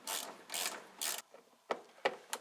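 A ratchet clicks in bursts while nuts are removed from the auxiliary headlamp mounting on a Porsche 944, several quick close ratcheting runs separated by short pauses, followed by a few isolated clicks.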